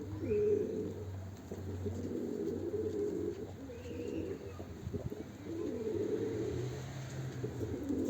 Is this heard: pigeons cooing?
yes